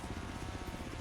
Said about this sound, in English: Chinook, that was the helicopter name I wanted